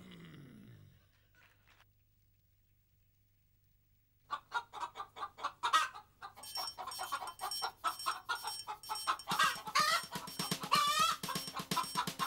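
A hen clucks repeatedly up close in a farmyard, a quick run of sharp clucks building into louder, busier calls with other birds joining in, after a few quiet seconds.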